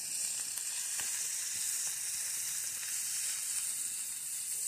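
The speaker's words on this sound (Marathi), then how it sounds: "आता मी अजून 2 ते 3 मिनिटं चांगले परतून घेणार आहेत त्याला, म्हणजे पूर्ण ते लाल झाले पाहिजे." Freshly picked bitter gourd sautéing in oil in a pan makes a steady, loud, close sizzle with a constant hiss throughout and no talking.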